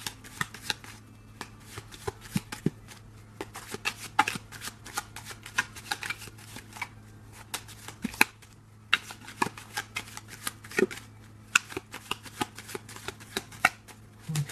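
A deck of tarot cards is shuffled over and over, with rapid riffling bursts and soft flaps repeating steadily, close and clear, with no talking.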